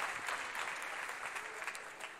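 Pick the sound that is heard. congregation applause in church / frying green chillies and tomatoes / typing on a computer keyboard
congregation applause in church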